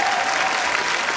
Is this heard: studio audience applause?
yes